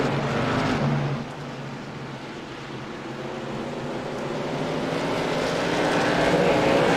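Racing truck engines roar steadily in an esports race at North Wilkesboro, a continuous loud droning pack sound that dips briefly then swells as the trucks pass, with no talking.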